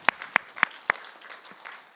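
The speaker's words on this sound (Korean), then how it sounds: "우리 하나님께 영광의 박수 올려드리도록 하겠습니다." Church congregation clapping during a Sunday afternoon worship service, four sharp evenly spaced claps followed by fainter scattered clapping, fairly close with no talk.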